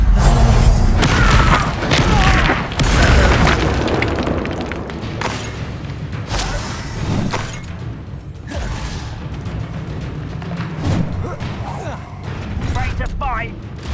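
Fire spell blasts and magical combat effects in Hogwarts Legacy, a run of loud booming bursts and whooshes throughout, with voices shouting over the fighting.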